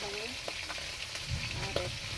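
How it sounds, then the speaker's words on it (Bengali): Fresh pond fish fry in a pan with a soft, continuous sizzle heard close but faint, steady throughout with no clear voices. "পুকুরের জ্যান্ত মাছ ভাজা চলছে"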